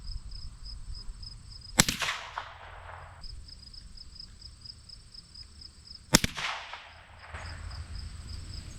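Two sharp, loud gunshots during youth hunt shooting practice outdoors, each followed by a ringing echo, spaced about four seconds apart over a steady insect hum.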